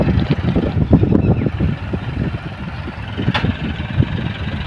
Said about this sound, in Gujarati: તો ટ્રેક્ટર આ રીતે પાળા વીખાય છે. તો આ રીતે ટ્રેક્ટરની સ્પીડ હોય છે.